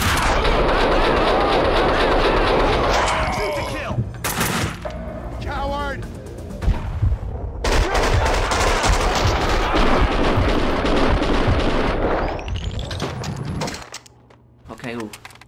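AK-47 fire in the video game Max Payne 2, with loud rapid bursts and single gunshots, pauses between volleys, and someone talking over parts of it.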